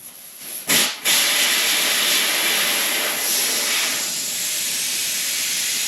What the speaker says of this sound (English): Remove the valve stem on the inside just to let all the air out.